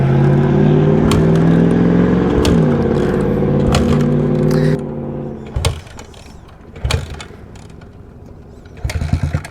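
Two 17-inch supermoto motorcycles accelerate hard in a race, their engines climbing together in loud, rising whines that shift gear, then fade to intermittent nearby revs and mechanical bursts.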